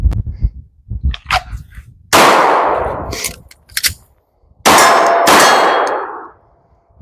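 Pistol rounds strike steel targets at a shooting range: light taps early on, then two loud, ringing metallic clangs that fade slowly, with a few softer knocks between them.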